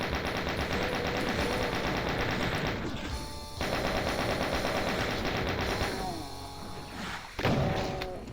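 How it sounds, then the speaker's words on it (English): Doom chaingunners firing rapid bursts of automatic gunfire, loud and continuous for most of the stretch with brief pauses, mixed with other game shots and thuds. "Especially when you got chain gunners elsewhere waiting to gun me down."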